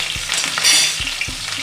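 Garlic paste and curry leaves sizzle in hot refined oil in a pan, a bright crackling fry with a few soft stirring knocks, close and without voices.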